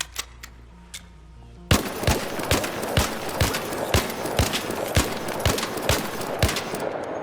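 Venator gun firing in ARC Raiders, a steady run of sharp, evenly spaced shots at a quick rhythm, loud and close, after a quieter moment with a few faint clicks.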